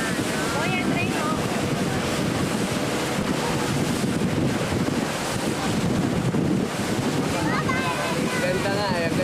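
Ocean waves crash and surge continuously at night, a dense roar mixed with wind buffeting the microphone, with faint voices now and then under the water noise.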